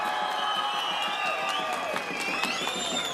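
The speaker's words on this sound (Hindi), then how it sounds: "उनका भी तालियां बजाकर स्वागत करें" Crowd clapping and cheering at an outdoor political rally in Darjeeling, steady, fairly distant applause with scattered whoops and whistles continuing throughout.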